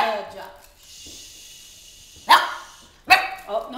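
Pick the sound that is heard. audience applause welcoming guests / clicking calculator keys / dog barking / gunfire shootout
dog barking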